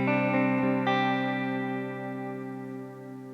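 Electric guitar through a Valeton GP-50 worship preset with modulation and a long reverb: a few strummed chords ring out and hang, decaying slowly into a washy tail, with no talking.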